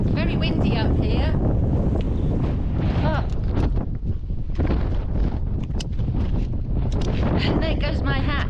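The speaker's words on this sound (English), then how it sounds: "It's very windy up here." Strong wind buffets the microphone in a loud, continuous roar on Razorback Ridge, with a person speaking briefly over the gusts.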